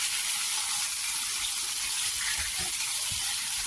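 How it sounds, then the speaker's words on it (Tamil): Boiled brinjal frying in sesame oil, giving a steady, loud hissing sizzle that carries on without break, with a few soft low knocks from the pan underneath. "நல்லெண்ணெய் ஊற்றி அந்த கத்திரிக்காயை கொஞ்சம் பொறுத்து எடுப்பேன்"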